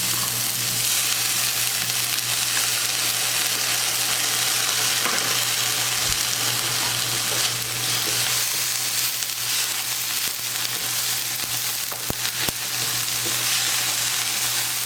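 Steady loud sizzling of paella frying in a pan on a medium stove as cilantro goes in, a dense continuous crackle with occasional stirring scrapes, close up and without talk.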